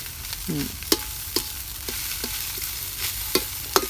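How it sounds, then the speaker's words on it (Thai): Oil sizzles steadily while a metal spatula scrapes and taps a wok in irregular clanks as shrimp fried rice is stir-fried, close by, no voices. "ต้องเคาะกระทะด้วย ถ้าไม่เคาะไม่อร่อยครับ"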